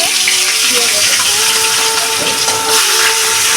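Rohu fish fry in hot oil in a wok, giving a steady, loud sizzling hiss that continues throughout, close and unbroken.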